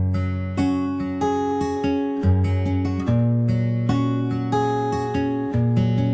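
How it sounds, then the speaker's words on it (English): An acoustic guitar plays a slow run of plucked notes and chords, each ringing out and fading before the next, clear and close with no voices, under light compression. "Now that acoustic guitar sounds like this."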